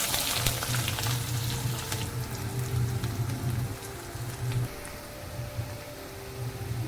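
Curry leaves and onions fry in hot oil with peanuts for a leftover-chapati phodnichi poli, giving a steady dense sizzle with crackling pops that eases slightly after the first few seconds, close by and with no talking.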